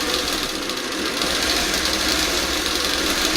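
A sewing machine stitches quilt pieces for a house-shaped block in a steady, even whir that runs continuously at moderate volume, close by and with no talking.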